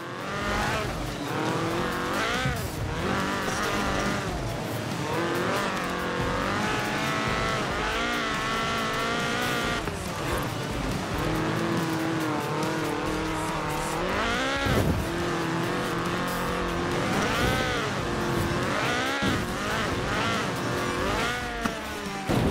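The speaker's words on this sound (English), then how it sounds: "This was a car designed explicitly for rallying, with a powerful fuel-injected 1790cc Cosworth BDE engine." A Ford Escort-style rally car's fuel-injected 1790cc Cosworth BDE engine revs and roars steadily in a racing video game, its pitch climbing and dropping through gear shifts, loud and close throughout.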